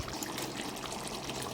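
Soaked cashews tipped into a chicken curry along with their soaking water, a soft, brief pouring trickle heard close and alone.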